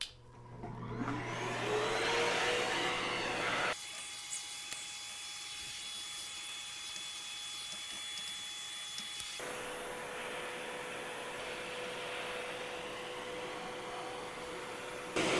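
A WORKPRO backpack vacuum with an extender tool and brush attachment roars while it cleans dust off ceiling fan blades. The airflow rushes and then shifts pitch abruptly several times as the nozzle moves against the blades, with no voices.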